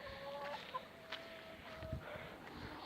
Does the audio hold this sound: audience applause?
no